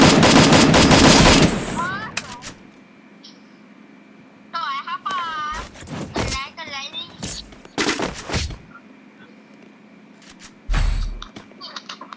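A new gun in the video game Free Fire fires a fast, loud automatic burst at the start, followed by short bursts and clicks while a player talks between them.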